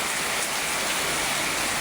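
Heavy rain pours down in a continuous dense hiss, loud and close, with no breaks or other sounds.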